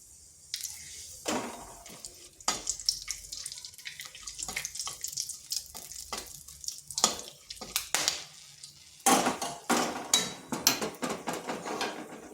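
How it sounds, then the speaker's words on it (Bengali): Whole spices, a bay leaf, two cloves, two cardamom pods and a few pieces of cinnamon, sizzling and crackling in hot oil for prawn malai curry, heard up close in irregular bursts with no talking. "ফোড়নে দিচ্ছি একটা তেজপাতা, দিয়ে দিচ্ছি 2টো লং, 2টো এলাচ আর কয়েক টুকরো দারচিনি"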